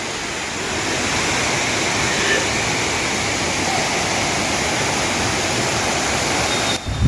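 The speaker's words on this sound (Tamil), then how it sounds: "ஃபால்ஸில் கொட்டுற தண்ணிலாம் இந்த வழியாக தாங்க வெளியில் போகுது" Steady, dense roar of rushing water from Courtallam Main Falls flowing out nearby, loud and continuous with no voices.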